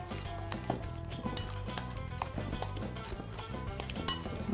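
Ground meat stuffing being mixed in a bowl with pepper and mild chili, sticky stirring and soft clinks of utensil against dish, steady and close, with faint tonal music underneath.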